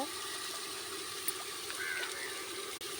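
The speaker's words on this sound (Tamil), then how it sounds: "அதுதான் அழகாக மோட்டாரில் தண்ணி அழகாக போயிட்டுருக்கு." Water flows steadily from an electric motor pump irrigating a cattle fodder crop on a farm, a continuous rushing, trickling stream heard close with no voices.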